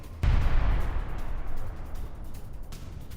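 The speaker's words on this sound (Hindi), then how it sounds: "रूसी ठिकानों पर ब्रिटिश आर्टिलरी से अटैक किया गया है।" A British AS-90 self-propelled artillery gun fires once, a sudden heavy low boom followed by a long rumbling roll of noise that trails off over a few seconds.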